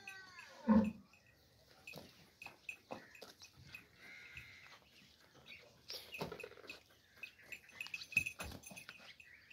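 A Jersey Cholistani cross cow on a Pakistani farm gives a short low call early on, followed by scattered snorts, shuffling and small farmyard noises, fairly close and quiet, with faint bird sounds in the background.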